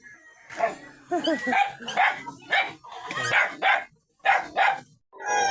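A small black puppy barks and yips in a quick irregular series of close, fairly loud bursts, with a few whimpering notes between them.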